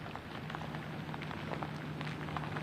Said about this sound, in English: The rain coming down at a good clip and the winds picking up